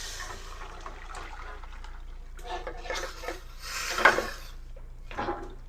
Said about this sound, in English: Oh, that pot's not big enough. Let me switch that over. I'll get these going in a bigger pot.